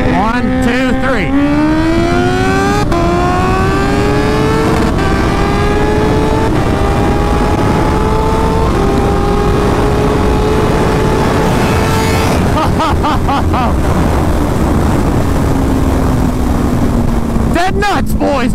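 A stretched Kawasaki Ninja H2 motorcycle accelerates hard, its engine note climbing through several rapid air-shifted gear changes, loud and steady throughout, with voices faintly under the roar.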